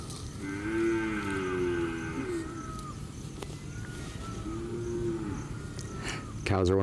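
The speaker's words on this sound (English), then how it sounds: "Cows are one of those few animals that really sounds like a cow." Cattle lowing in a pasture, two drawn-out moos a few seconds apart, clear and fairly close over soft outdoor background.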